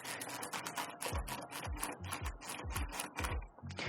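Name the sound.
ratchet with 10mm socket removing motorcycle tail light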